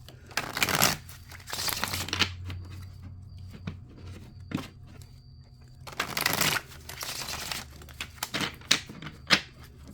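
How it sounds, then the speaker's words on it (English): Riffle shuffles of a card deck, several bursts of rapid crisp flutter separated by pauses, close and fairly loud, with a few sharp taps between. "Let's give it a couple shuffles."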